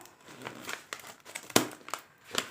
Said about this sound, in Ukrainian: розрізаємо скотч, розрізаємо папір